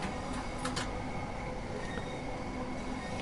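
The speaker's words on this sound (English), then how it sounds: "We have a Javelin, which is going to London St Pancras International from Faversham." A Javelin high-speed train runs on the line to London St Pancras International in Train Sim World 2, a steady rolling rumble with a few brief clicks and squeals, and no voices.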